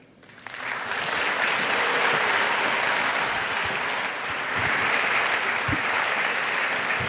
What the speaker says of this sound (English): Another round of applause for Kate Goldstein-Breyer!